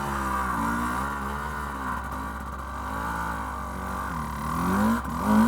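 A Stark Varg electric dirt bike fitted with a Rekluse clutch whines steadily nearby, its electric motor pitch wavering up and down with the throttle and swelling at the end, heard alone without speech.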